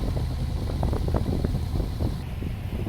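A speedboat engine idles unevenly, a low throbbing rumble that wavers in strength, heard close, with steady wind noise buffeting the microphone and no voices.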